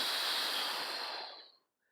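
A person doing a back-pain exercise lets out one long, close, breathy exhale that hisses steadily and then fades out after about a second and a half.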